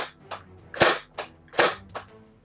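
A vintage Nerf blaster set to single-shot mode fires darts in sharp, close, loud pops, with two strong shots and several lighter clicks spaced roughly every half second.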